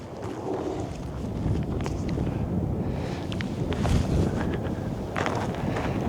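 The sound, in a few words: steady headwind blowing across a disc golf course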